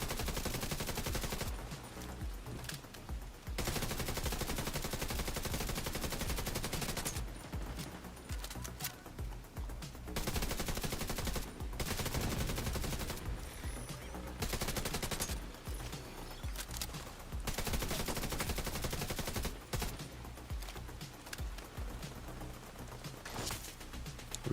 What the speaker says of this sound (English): My turret's having a hard time acquiring targets, though.